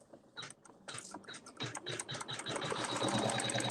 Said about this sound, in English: now we can just begin sewing the quilting